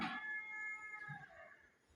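Two cats meow as a story sound effect, a short high cry at the start followed by fainter, fading mews with no talking.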